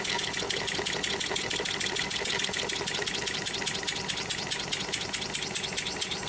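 Four-stroke engine converted to run on compressed air, chugging with a rapid, even mechanical knock and hiss, loud and close, steady throughout.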